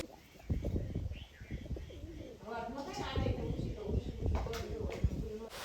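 Soft, repeated cooing of pigeons close by, mixed with rustling and muffled voices in the background.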